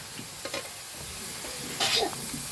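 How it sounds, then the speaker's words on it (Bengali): Spice masala with turmeric and Kashmiri dried chilli being fried and stirred in a pan at an outdoor village picnic cook-up: a close, even sizzle with scraping stirs and a brief louder hiss, no voices. "ভাজা ভাজা করে নেবো মশলাটা, একটু ভালোভাবে কষানো যায়"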